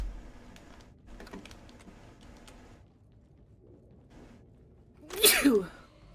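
A single sharp, loud sneeze bursts out near the end, after quieter stretches of faint clicking and shuffling sounds.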